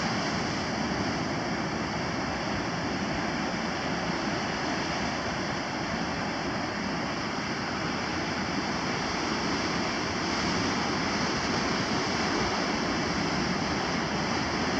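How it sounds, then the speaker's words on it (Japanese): Ocean waves crash against the rocky Reykjanesviti coastline in Iceland, a constant loud roar of surf and spray that never lets up. "岩にぶつかる波が結構、迫力あるように思います。"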